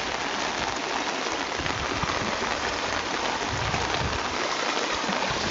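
Heavy rain pouring down during flooding in Valleluce, a dense, steady hiss of drops striking surfaces with running water beneath, continuous and close throughout with no talking.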